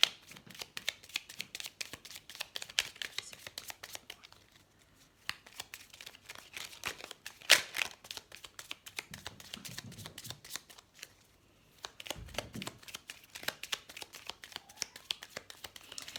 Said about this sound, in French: Alors on va tirer quelques cartes.